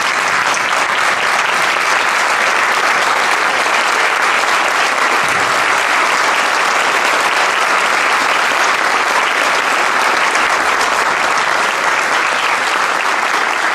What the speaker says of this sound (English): So could we all stand and give them a round of applause?